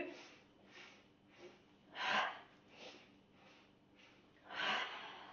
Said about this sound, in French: On relâche, on prend 2 grandes respirations